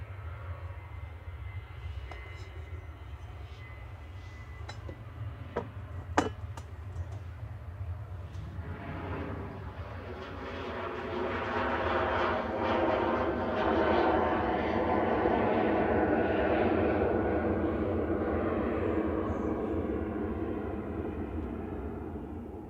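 A plane takes off from Manchester Airport, its engine roar swelling from a distant rumble into a loud, sustained, broadband roar that holds steady to the end, with a constant low hum underneath throughout.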